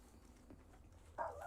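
A dog in the Elite: Dangerous Odyssey video game gives a single short bark near the end, loud over a quiet, low background hum.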